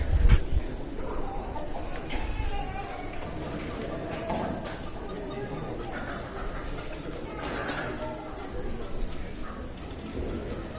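English class roosters and other poultry in a county fair show barn, with scattered clucks and crowing mixed into a steady crowd murmur, while a person talks nearby.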